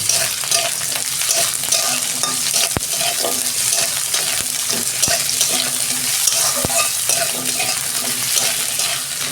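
Eggplant and potato frying in oil in a pan, loud steady sizzle with stirring and a few sharp utensil taps, close up and continuous without speech.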